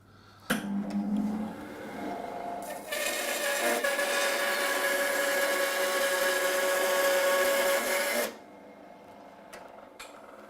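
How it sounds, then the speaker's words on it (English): A Record Power BS300E 12-inch bandsaw with a 1 horsepower motor runs and cross cuts a piece of maple, a steady loud whine that builds from the start, holds for several seconds, then drops away, with no talking. "We're just going to cross cut a bit of maple, but you've got a 1 horsepower motor,"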